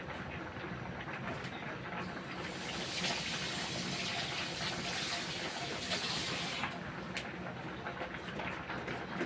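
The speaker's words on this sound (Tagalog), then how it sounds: "Lagyan natin ng tubig." Water gushes steadily from a tap for several seconds, a hissing splashing stream that starts and then stops, fairly close and faint overall.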